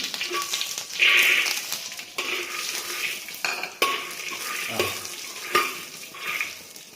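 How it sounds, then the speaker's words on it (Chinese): Peanuts stir-fry in peanut oil over low heat, with intermittent scrapes and metallic clatter from a spatula against the pan between quieter stretches. "不断的去翻炒它，炒到这个花生米酥脆"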